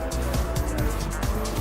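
A race car during a 24-hour endurance race roars continuously from inside the cabin, a loud engine drone with rhythmic shifts and pulses, while someone speaks over it.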